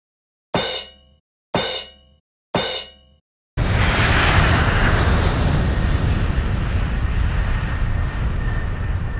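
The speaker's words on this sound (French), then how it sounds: "Nous sommes maintenant prêts pour le décollage de la fusée." Three sharp metallic clangs in even succession, then a homemade rocket launch erupts into a loud, steady rushing roar that holds and slowly eases, close by and without speech.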